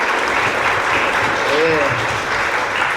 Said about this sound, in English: Clap it up for, give it up for Kylon again